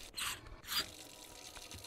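Water splashes into a container in Untitled Goose Game, heard as two short, close bursts of filling before everything goes quiet.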